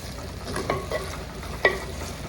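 Ridge gourd cooks in a pan, a soft steady sizzle broken by a few faint stirring clicks and scrapes, quiet and close.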